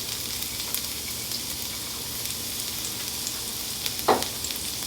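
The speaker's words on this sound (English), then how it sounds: "first I'm going to add my minced garlic and some ginger" Minced garlic and ginger saute in hot oil for a Cantonese scallion ginger lobster stir fry. A steady, hissing sizzle runs throughout, with one sharp utensil clink near the end.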